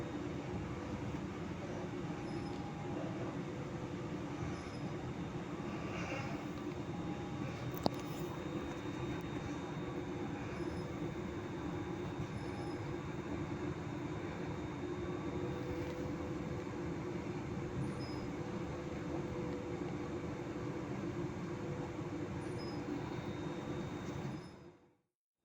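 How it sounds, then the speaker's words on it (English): A passenger train rolls along the line between Blackridge and Livingston North toward Edinburgh, heard from inside as a steady, continuous low rumble and hum of wheels and motor that fades out only at the very end. "there goes our train towards its end venture, Edinburgh."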